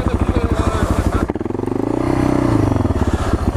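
A Kawasaki KLR motorcycle on knobby tires rides off-road with a steady, close, throbbing engine note that rises in pitch as it accelerates, with some clatter from the terrain.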